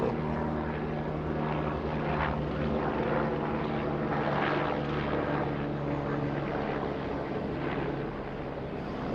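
A helicopter drones overhead, a steady whirring engine hum that swells slightly midway and then eases off, with no voices.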